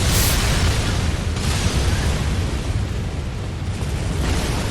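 Explosion in the Bloodborne video game, a loud, dense blast that starts sharply and rumbles on as a sustained roar for several seconds, with no talk over it.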